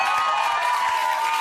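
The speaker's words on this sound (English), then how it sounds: "now half the audience is clapping" Brief steady clapping and cheering from a television talk show studio audience, a dense wash of hands that holds at even loudness.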